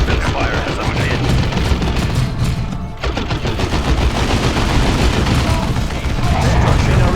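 Rapid gunfire and explosions from the Warhammer 40,000 Dawn of War II PC strategy game, dense and continuous battle noise with bursts of automatic fire and booms, loud throughout with a brief dip midway.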